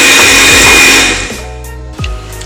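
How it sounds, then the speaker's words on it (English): An electric hand mixer whirs loudly as it starts mixing cake batter with cream of tartar in a bowl, a steady high motor whine for about a second before dropping to a lower, quieter hum with a brief bump near the end. "Now I'll start to mix with my hand mixer."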